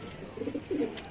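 Soft homing pigeon (English carrier) coos, a couple of low throaty phrases close by, brief and fairly quiet against faint background noise.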